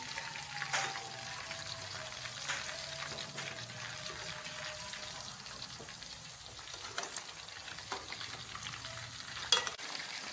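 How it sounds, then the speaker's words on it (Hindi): Chicken pieces for black pepper chicken sizzling steadily in a frying pan on one side, a continuous crackling hiss with occasional sharper pops and faint utensil scrapes, close and fairly quiet throughout with no talking. "अब इसको अच्छी तरह से एक साइड से फ्राई कर लेंगे 2 से 3 मिनट के लिए"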